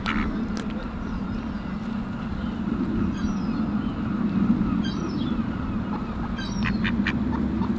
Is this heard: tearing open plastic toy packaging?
no